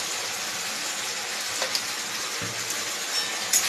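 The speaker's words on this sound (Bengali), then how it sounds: "একটু ভালো করে নাড়াচাড়া করে নেব।" Spices with tomato sauce, black pepper powder and salt sizzling in a pan as they are stirred, giving a steady frying hiss with a few faint scrapes and taps and no talking.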